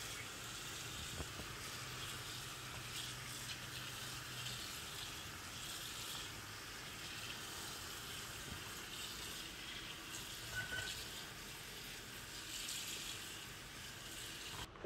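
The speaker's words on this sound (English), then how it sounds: "Just making sure I'm getting water on both pouches." Tap water streams steadily into both pouches of a BullBell home gym, a continuous gushing fill with slight shifts in splash as the flow moves between pouches, close and without talk.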